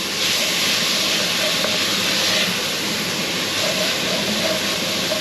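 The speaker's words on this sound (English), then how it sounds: "I've got the extractor fan on" A kitchen extractor fan runs over a pan of frying beef rendang paste, giving a steady, loud, broadband whooshing hiss that holds unchanged for the whole stretch.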